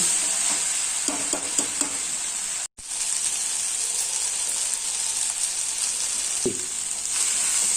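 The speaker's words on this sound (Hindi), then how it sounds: "इसे आधे घंटे तक भूनें" Okra and potato bhujia frying in a pan, a steady close sizzle with occasional stirring scrapes, broken by a brief silent gap partway through.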